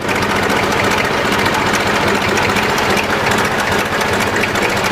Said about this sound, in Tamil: இந்த இன்ஜின் சவுண்ட் உங்களுக்கு கேட்குது